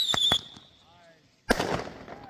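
A firework at a small Bombay Beach show whistles upward as a thin rising tone, then bursts into a loud crackling bang that fades, with brief voices at the start.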